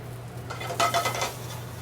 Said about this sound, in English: And I'm gonna add them right now to this rendering pancetta.